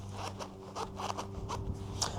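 A zip on heated clothing being pulled open, a series of short rasping zipper strokes in quick rhythm, close and fairly quiet, with a faint steady hum underneath.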